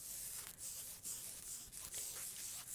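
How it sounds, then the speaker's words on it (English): Fingers scratch back and forth across the fabric of medical scrubs, a soft, close, rhythmic rasping in several repeated strokes. "I was just scratching on my scrub here"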